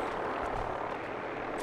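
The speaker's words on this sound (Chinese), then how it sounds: "为什么会来直升机？" Helicopter in the video game Fallout 4, a steady broadband rotor and engine drone holding at an even level throughout, with no voices over it.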